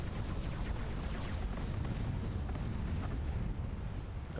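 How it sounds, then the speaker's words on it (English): Space battleship explosions in the video game Master of Orion: Conquer the Stars, a dense, continuous rumble of booms and blasts rolling on without pause, loud and heavy in the low end with no talking. "There's going to be a lot of explosions"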